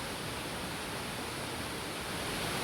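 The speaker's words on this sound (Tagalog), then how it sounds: "Ang pinakamataas na falls ng Cebu" Mantayupan Falls, the tallest waterfall in Cebu, roars as a steady, dense wash of falling water with no breaks, loud and even throughout.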